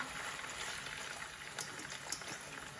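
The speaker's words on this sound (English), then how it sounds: "So in goes the kapenta," Drained dried kapenta (matemba) tipped into a large cooking pot, giving a steady close hiss and sizzle with a few small clattering ticks near the end.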